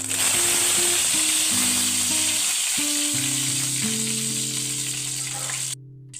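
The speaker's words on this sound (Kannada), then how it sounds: "ಸಾಸಿವೆ ಎಣ್ಣೆ ಪಟಪಟ ಅಂತ ಹೊಟ್ಟಿದ ಮೇಲೆ ಈ ರೀತಿ ಪಟಪಟ ಅಂತ ಹೊಟ್ಟಿದ ಮೇಲೆ ಕರಿಬೇವನ್ನು ಹಾಕಬೇಕು" Mustard seeds and curry leaves sizzle in hot coconut oil for a potato palya, making a loud, steady frying hiss with crackle over a soft background melody, cutting off abruptly at the end.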